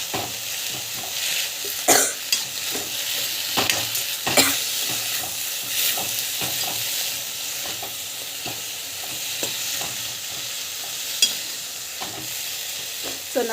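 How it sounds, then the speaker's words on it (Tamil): Coriander and mint leaves sautéing in a pan make a steady broadband sizzle, and a spoon stirs and scrapes against the metal at irregular intervals throughout. "நல்லா வந்து வதக்கிட்டுருக்கோம்."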